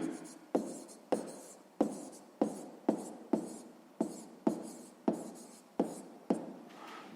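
Pen or chalk strokes writing out a sixth-grade math answer, about a dozen sharp evenly spaced taps each trailing off briefly, close and fairly loud with no voice.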